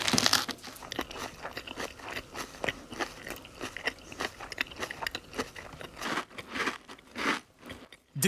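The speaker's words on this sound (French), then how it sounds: "on entend véritablement le croustillant qui monte dans les oreilles de la personne" Crispy fried chicken breading crunched in close, repeated bites for a KFC ad, sharp crackly chews arriving in an uneven rhythm with no talk over them.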